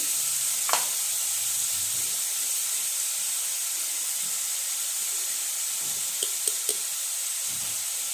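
Chopped onion sizzles steadily in a hot pan, a bright continuous frying hiss with a few faint clinks of stirring near the end.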